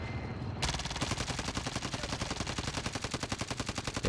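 Rapid automatic gunfire in the video game Call of Duty: Warzone, a loud, steady stream of evenly spaced shots that starts abruptly and keeps going without a break, with no talking over it.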